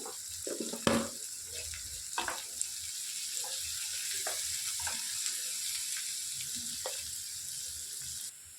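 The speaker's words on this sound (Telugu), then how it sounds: "హాఫ్ టేబుల్ స్పూన్ పసుపు కూడా వేసుకొని మంచి ఫ్రై చేసుకోవాలి" Bitter gourd pieces frying in a pan with turmeric, a continuous soft sizzle punctuated by scraping and stirring clatters of a spatula, close and moderate in level.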